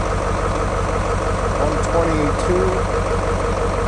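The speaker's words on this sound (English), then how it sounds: "we've been idling for about 5 minutes" A Detroit 8.2L diesel engine idles steadily, a loud continuous low rumble filling the space, while someone briefly speaks a number over it.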